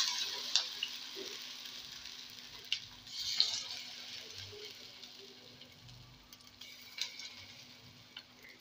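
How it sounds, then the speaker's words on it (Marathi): Rava appe batter gently sizzling in an oiled appe pan, a faint, steady fry with scattered soft ticks and a few brief clinks from utensils. "आता आप्पे पात्र्यामध्ये मी बनवलेलं बॅटर टाकून घेणार आहे"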